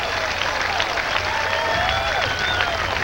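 A crowd at a 1991 AVP beach volleyball semifinal in Fort Lauderdale bursts into sustained applause and cheering, dense and steady for the whole stretch, with a few whistles cutting through.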